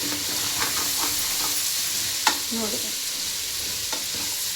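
Two medium-sized chopped tomatoes fry in a pan for a sambar, producing a steady close sizzle with occasional stirring clinks; a voice speaks one brief word partway through.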